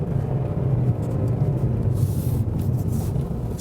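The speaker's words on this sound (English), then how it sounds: "Engine going uphill again." Fiat Tipo compact sedan (2017) engine straining as it climbs uphill on a winding B road with hairpins, a steady low droning rumble inside the car, continuous and fairly loud with no talk.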